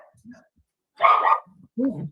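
Small dog letting out a few short, yappy barks at close range, with a voice talking in between.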